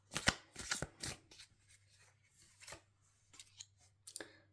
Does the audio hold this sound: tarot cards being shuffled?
yes